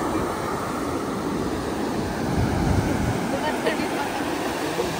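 Ocean waves wash up on a shore, heard as a steady broadband roar mixed with wind noise and a slight swell in the middle, while voices talk faintly beneath it.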